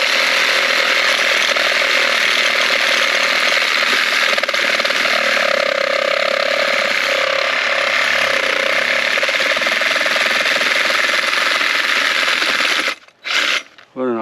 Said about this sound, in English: I wonder if I can cut this big one. I barely got a blade long enough.